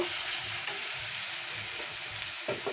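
Cumin and coriander powder being stirred into a mixture frying in a pan, a dense, steady hiss of frying with soft rhythmic stirring and a couple of spatula taps near the end, with no voices.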